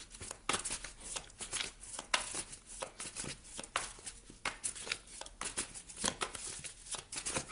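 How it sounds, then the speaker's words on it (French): Tarot cards shuffled by hand on a desk, a close, quiet run of rapid riffling and flicking bursts repeating steadily throughout. "Je remélange encore un petit peu votre jeu"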